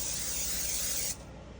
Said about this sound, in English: I'm gonna spray the top of them with some more